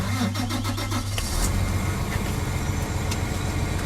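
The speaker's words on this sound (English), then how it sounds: "Let me go ahead and start the tractor real quick." A John Deere R4038 sprayer tractor's engine cranks and catches, settling into a steady mid-pitched idle that stays close and fairly loud throughout.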